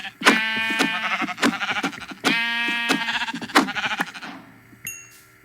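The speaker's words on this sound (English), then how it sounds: "Okay, the sheep is now standing on my fractal." A sheep in Minecraft bleats loudly and repeatedly up close, with a series of wavering, harmonic cries and short gaps between them, then a sharp game sound at the end.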